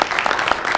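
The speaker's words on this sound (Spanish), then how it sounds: "Den otro fuerte aplauso al Señor." A church congregation claps in a dense, lively burst of applause, close and loud throughout the brief moment.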